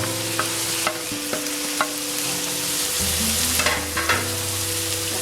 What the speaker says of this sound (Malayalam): എല്ലാ പച്ചക്കറികളും ഒന്നിച്ചിട്ട് നമുക്ക് വഴറ്റാം.